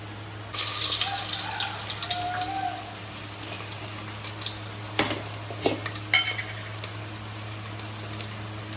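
Spices tempering in hot oil for a Konkan-style chicken curry with ginger-garlic paste: a sudden loud burst of sizzle that slowly settles into a softer crackle, with a few sharp clinks from stirring.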